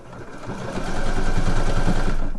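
A sewing machine back-stitching a slipper sole, its motor whirring in a quick, steady needle rhythm that builds to full speed and holds, close and clear, with no voices.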